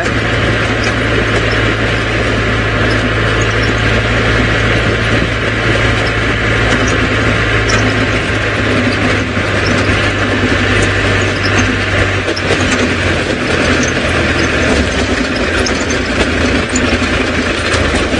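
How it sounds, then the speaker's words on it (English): Safari vehicle engine running during an early-morning game drive, a loud steady low drone with a constant hum that holds through most of the stretch before shifting, no talking. "Sorry, Faith, I couldn't hear you over the sound of the engine."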